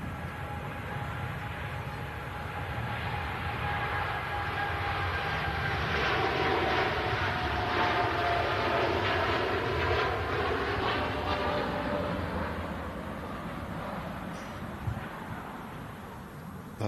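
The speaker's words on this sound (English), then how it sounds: "We've got a TUI Dreamliner rolling on 23 right at the moment" A TUI Boeing 787 Dreamliner rolls for takeoff on runway 23 at the airport, its engine roar swelling to a peak midway with a sweeping whine, then easing slightly as it recedes; no voices.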